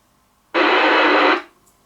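Open-squelch hiss from a Jesan KT750 CB radio receiver during an FM field test: a loud, steady burst of white noise lasting under a second, starting and cutting off abruptly, with no speech.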